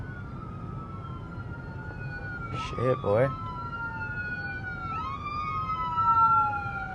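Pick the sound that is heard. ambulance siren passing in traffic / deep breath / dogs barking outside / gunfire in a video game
ambulance siren passing in traffic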